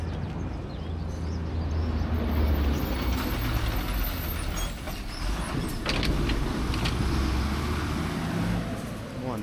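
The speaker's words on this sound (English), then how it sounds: "More and more trucks." Heavy trucks and road traffic rumble past on a roadway near Kalenjin Estate, a steady low engine drone with brief higher hisses like air brakes, fairly close.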